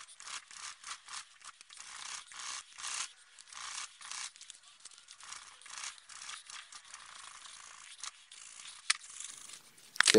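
A metal file rasps across the spine of a knife blade during filework, giving a steady run of short, quiet scraping strokes with brief pauses, close up and alone.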